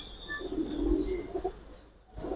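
Giribaz pigeons coo softly in a short, low murmuring call, fairly near but quiet, with a faint rustle at the end.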